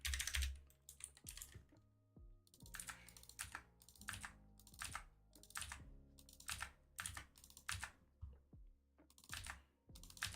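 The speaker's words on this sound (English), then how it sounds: "I'm typing in these all right now." Keys clatter on a computer keyboard in irregular bursts of quick taps with brief pauses, close and distinct, and nobody talks over them.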